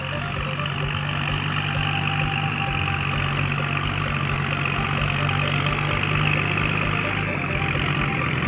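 A 2019 Kubota L4018 tractor engine runs at a steady idle, a continuous low rumbling drone at close range for the whole stretch, with no talk heard.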